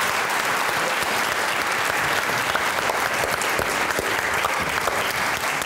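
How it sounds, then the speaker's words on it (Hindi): Continuous, loud applause from a stand-up comedy show audience, thick overlapping clapping at a steady level throughout, with a faint murmur of crowd underneath. "तालियां बजती रहनी चाहिए इमरान भाई के लिए।"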